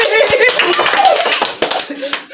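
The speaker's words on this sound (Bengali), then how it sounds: "সবাই জোরে করতালি" A group claps loudly in a burst of quick, uneven applause during a lively spin-the-wheel party game, with voices chattering over and between the claps.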